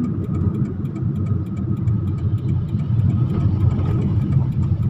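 A manual car's engine hums and idles steadily as the driver signals left, presses the clutch and brakes to stop, a close, continuous low rumble with no clear revving.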